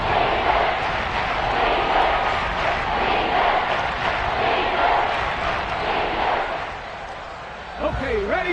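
Stadium crowd at a football game roaring ahead of a big third down, a loud sustained wall of cheering that holds steady and then dips near the end as a voice speaks over it.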